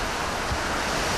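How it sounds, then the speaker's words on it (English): Typhoon winds and driving rain batter Tokyo in a dense, loud, continuous roar of wind and rain that fills the whole moment without pause. "Tokyo takes a battering from high winds and driving rain."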